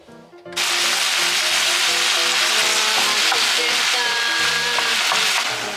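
Food sizzles loudly and steadily in a pan over a medium flame, a constant hiss that starts abruptly after a short pause and carries on with faint music beneath it.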